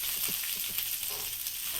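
Mustard seeds crackle and pop in hot oil for a cabbage stir fry, a dense continuous sizzle with quick scattered pops, close and fairly quiet, with no voice.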